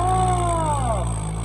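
Tractor engine drawing closer at a rural Punjabi village contest, a steady mid-pitched rumble with a rising then falling whine, loud and continuous throughout.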